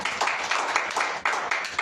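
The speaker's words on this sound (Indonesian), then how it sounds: "Tepuk tangan buat Tuhan." Several rhythmic hand claps in a steady beat, sharp and close, repeating about every quarter second, at a church service.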